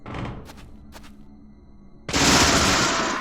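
Gunfire in the horror game Deadly Premonition, a sudden loud blast of dense rapid shots after a couple of quieter thuds, sustained and harsh for over a second.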